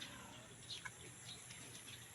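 Alimokon chicks chirp with a few faint, brief high peeps spaced apart over a noisy outdoor background.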